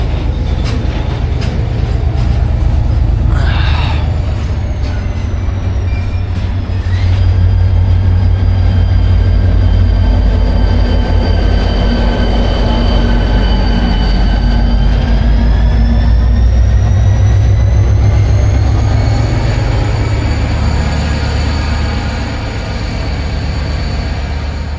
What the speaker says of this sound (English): this container train is kind of coming to life